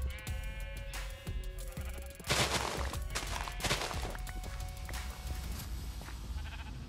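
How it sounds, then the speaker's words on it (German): Several sheep bleat in Minecraft, with short tonal cries rising over a busy game soundscape of footsteps and clicks. The bleats sound moderately close and repeat irregularly. "keine Sorge, hier Schafe"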